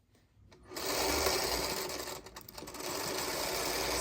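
A home sewing machine stitches a 5-inch quilt block, whirring up to a fast steady run after a quiet start, dipping briefly, then continuing at an even clatter.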